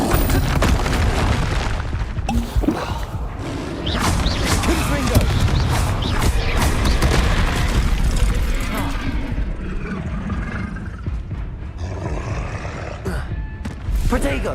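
Spell combat in Hogwarts Legacy, including a cast of the Incendio fire spell, produces continuous loud booming blasts and roaring whooshes for the whole stretch, with a voice speaking over the action.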